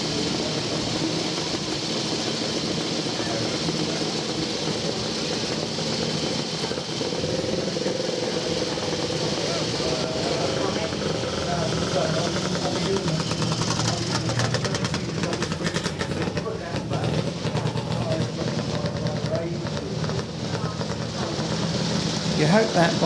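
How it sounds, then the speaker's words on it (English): Vintage motorcycles, including a rare Birmingham-built Calthorpe with a misfire, idle and set off at the Banbury Run, giving a continuous loud engine drone with uneven firing, with voices talking over the engines. "You hope that bike has cured that misfire by the time it gets around the circuit."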